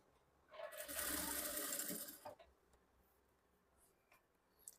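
A sewing machine runs a double stitch along a blouse seam in one steady, close burst of about two seconds, then stops, leaving a few faint clicks and quiet handling.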